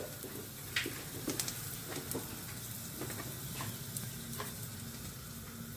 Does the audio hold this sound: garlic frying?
yes